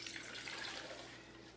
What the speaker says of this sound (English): when I get up in the morning, what I do is then I rinse them